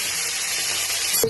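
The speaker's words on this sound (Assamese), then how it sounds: "লতিটো ভাজি লৈছো।" Taro stolons fry in oil with a brief, steady hiss and sizzle that ends in a short clatter.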